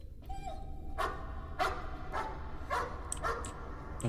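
A dog in the horror video game Layers of Fear gives a handful of short barks and yips at irregular intervals, fairly faint over a low, droning ambient background, with no talking.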